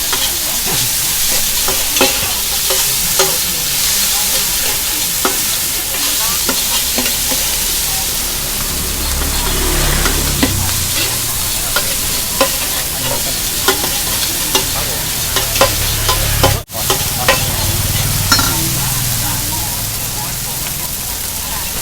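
Loud, continuous sizzling of pad thai noodles being stir-fried in a hot wok at a street stall in Bangkok, with steady scraping and tossing and faint voices in the background.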